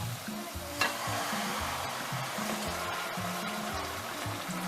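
Chopped tomato stirred into a pot of goat stew with curry powder and nutmeg, steady sizzling under repeated scraping strokes of stirring and a single sharp knock early on.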